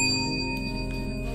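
A small bell rings with a sustained bright tone that slowly decays, close and fairly loud, during a ghost hunting session inside an abandoned chapel in Pampanga, with no voices over it.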